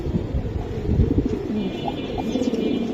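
Silver Giribaj pigeons coo softly in a repeated, throaty pattern at close range, with a few faint chirps and light background noise around them.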